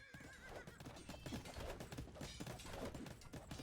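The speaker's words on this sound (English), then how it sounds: "The horses are loose!" Horses neighing and whinnying over a busy clatter of hooves in Age of Empires 2, a dense, continuous commotion with several loose animals.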